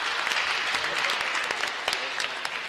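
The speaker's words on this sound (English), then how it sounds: "So I would like to applaud our women in the audience as well." Audience applause at a datathon award ceremony, a steady dense patter of many hands clapping close by for the whole stretch without a break.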